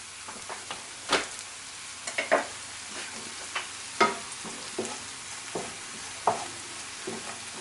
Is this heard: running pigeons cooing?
no